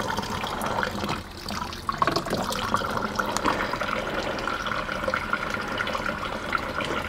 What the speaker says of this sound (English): So now we're adding water.